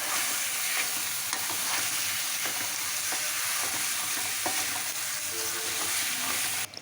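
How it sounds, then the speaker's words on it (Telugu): Mutton pieces being stirred with fried masala in a pan for curry, a continuous sizzle with repeated scraping strokes of the spoon, close and steady throughout. "ముక్కలన్నిటికీ మసాలా పట్టే విధంగా కలుపుకోవాలి"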